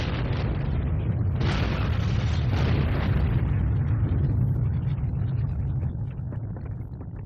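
A big film explosion roars out as a loud, sustained rumbling boom with a crackling burst near the start, holding heavy for several seconds before easing slightly, with no voices over it.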